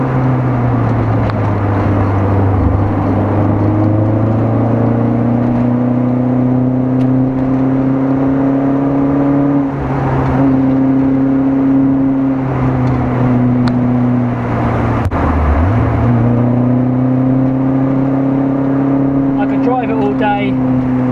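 An old-school mechanical car's engine runs while driving, a loud, close, continuous drone whose pitch shifts slightly and briefly dips as the car changes speed.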